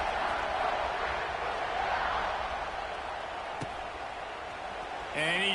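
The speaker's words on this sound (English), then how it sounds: "this crowd is buzzing after that last score" Stadium crowd in a college football video game buzzing steadily after a touchdown, a broad sustained roar that stays even and fairly distant, with a brief knock and a short whistle-like tone near the end.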